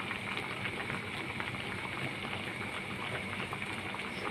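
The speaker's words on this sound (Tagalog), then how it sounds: "kumukulo-kulo na" Baby back ribs simmer in a pot of boiling barbecue sauce, a soft continuous bubbling and hiss, fairly faint and close, with no talking.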